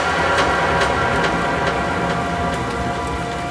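Steady heavy rain pouring down at night, a dense continuous hiss with scattered drop patters, loud and unbroken.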